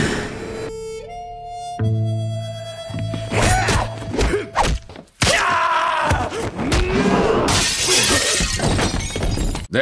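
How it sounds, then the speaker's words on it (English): Glass shatters in a Kill Bill sword fight. Several loud crashing bursts are tangled with thuds, grunts and swelling music that runs throughout. "I don't want people against walls like that, breaking glass."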